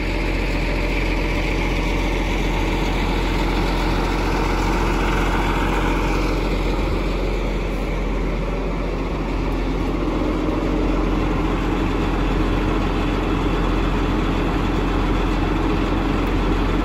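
A tractor engine drones steadily and loudly throughout with a constant low rumble, like heavy machinery idling nearby; no talking.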